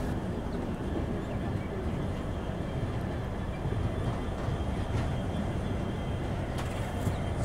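A passenger train pulling out of Rangiya Junction on a Kolkata to Dibrugarh route, heard from on board as a steady low rumble and rattle of the carriage, continuous and even, with faint clanks and some background voices.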